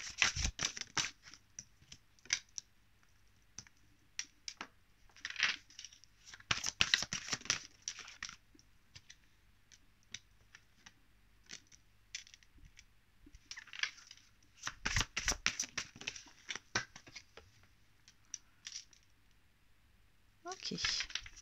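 Tarot cards drawn and handled from a deck: soft scattered bursts of shuffling, sliding and card flicks, close and quiet, separated by quiet gaps.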